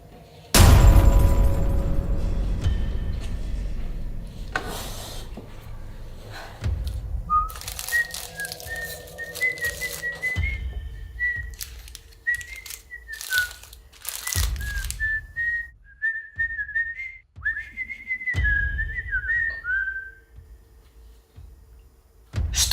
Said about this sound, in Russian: Опять кто-то свистел.